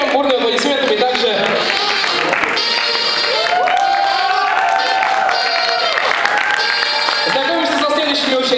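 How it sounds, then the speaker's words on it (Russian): An audience at a beauty pageant semifinal applauds the next six contestants. Steady, dense clapping continues throughout, mixed with music and voices over the crowd. "следующие 6 участниц встречаем бурными аплодисментами также"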